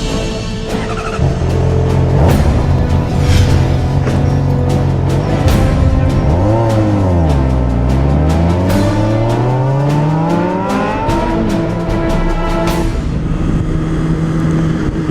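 A Honda CBR sport motorcycle fitted with ABS laps a race track, its engine note loud and continuous, rising and falling through revs with a sweeping pitch dip and climb as it passes close by, with faint ticks over the steady roar.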